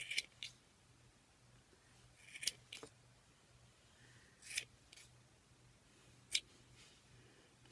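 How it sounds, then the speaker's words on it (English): Several crisp scissor snips cutting yarn loops at irregular intervals, close and fairly quiet, with a faint steady hum underneath. "we're going to take our scissors and we're going to cut all those loops"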